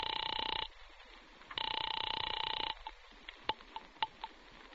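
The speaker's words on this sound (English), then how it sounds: "I'm ringing Miss Blake's apartment" A telephone rings in two long bursts of a bright buzzing bell, separated by a short gap and followed by a few faint clicks and knocks, set in an apartment in an old radio drama.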